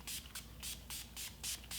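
Makeup setting spray is misted onto a face in about five quick, evenly spaced pump bursts, each a short bright hiss, close and fairly loud with no talking.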